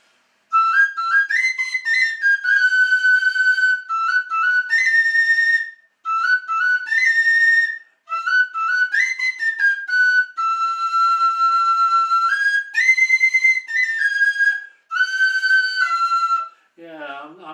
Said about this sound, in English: when I play these tunes on the whistle, it's a kind of combination of both types of vibrato